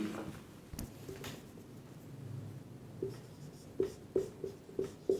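Chalk or marker writing on a board during a Hindi physics lesson, a few quiet scratches followed by a rhythmic run of short taps and strokes, close and faint, with no talk.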